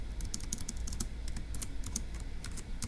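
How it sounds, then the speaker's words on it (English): Rapid typing on a computer keyboard, a dense run of crisp close key clicks in an uneven rhythm, heard alone without talk. "So let's go ahead and type that up in our notes."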